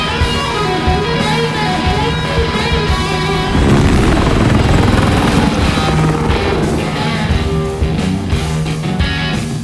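A helicopter in the video game Warzone roars loudly with a steady rotor thrum that swells into a heavier crash-like rumble midway, then settles back to a droning whir, with no talking.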